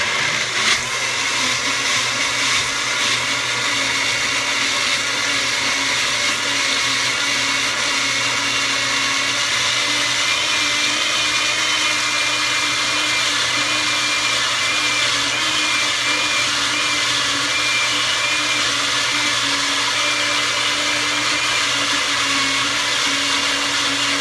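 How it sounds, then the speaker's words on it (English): Powerful blender pureeing a batch of homemade hummus, a loud continuous high-pitched motor roar with grinding texture that holds steady and uninterrupted for the whole stretch. "And then I'm going to blend it for a while."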